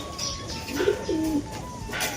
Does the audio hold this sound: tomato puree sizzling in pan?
no